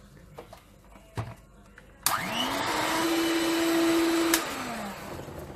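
An electric hand mixer whirs steadily through pancake batter as flour is mixed in, starting abruptly after a couple of clicks, holding a loud motor hum for a few seconds, then winding down.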